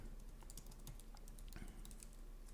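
A command is typed on a computer keyboard, a fast flurry of light clicking keystrokes, close and quiet over a faint steady hum, with no talk.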